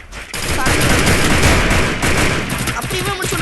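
Rapid bursts of gunfire in Counter-Strike, dense and continuous like a firefight with several weapons, loud and close throughout the short stretch.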